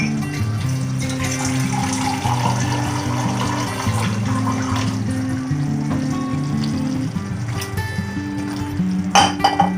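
A little water goes into a pan of liver curry on low heat, giving steady sizzling and bubbling with metallic clinks and scrapes, and a louder clatter near the end.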